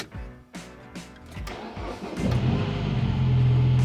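A MINI Countryman with a misfire problem is cranked a few times with rhythmic starter pulses, then catches and settles into a steady, close idle hum inside the car.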